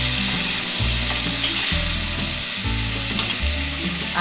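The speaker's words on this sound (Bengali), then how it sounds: "আলুটা দিয়ে একটু নেড়ে দিচ্ছি" Potatoes fry in a pan while being stirred, giving a steady, close sizzle with a regular rhythm of scraping and knocking strokes roughly every half second, and no voices.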